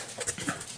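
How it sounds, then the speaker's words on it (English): Several small house dogs make quick, faint yips and whimpery sounds in the background of an indoor room during a brief moment. "Sorry about the dogs barking in the background."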